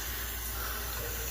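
A tap runs water in a steady close stream into a sink, a brief continuous hiss with a faint low hum and no talking.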